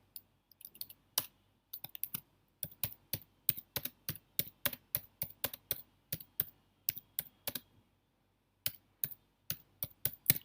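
Crisp, close computer keyboard keystrokes come in quick irregular bursts while a first Python program is typed, over near silence with a short gap before the final flurry; no talking.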